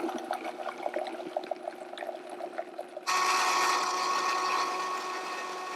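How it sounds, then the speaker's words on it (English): Kitchen blender pureeing thawed frozen blueberries: a whirring motor with rattling contents, then a sudden shift to a louder, steady high-pitched spin that holds to the end, close up and without voices. "I'm going to blend it in my blender until it's a nice and smooth paste."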